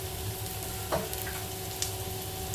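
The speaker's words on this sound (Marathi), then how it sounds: "इथे आता आलं लसूण भाजत आलं ना" Ginger and garlic sizzle steadily in hot oil in a pan, a soft continuous frying crackle with a brief stir or scrape, no voices.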